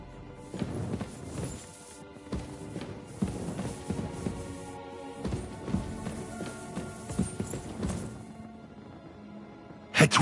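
In the medieval video game Kingdom Come Deliverance, horse hooves thud and clatter repeatedly over about ten seconds, close and moderately loud, with scattered knocks and a sharper hit at the end.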